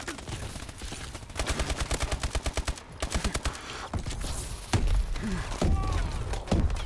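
ASM1 submachine gun fire in Call of Duty: Advanced Warfare, two quick, loud automatic bursts close up, followed by scattered thuds, footsteps and game noise.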